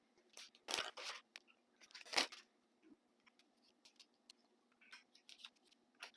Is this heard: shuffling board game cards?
yes